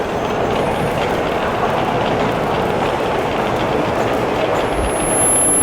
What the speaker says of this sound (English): Is that like a running train?